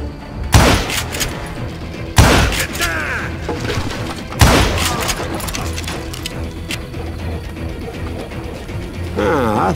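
Gunfire in the Western video game Call of Juarez Gunslinger: three loud, sharp shots spaced a couple of seconds apart, each ringing out briefly, with game voices talking over the action in between.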